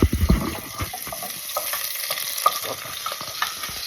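Garlic and onion stirred as they fry in a pan for a chicken dish, with steady sizzling and clinks and scrapes of the spoon, loudest at the start, then a softer continuous crackle.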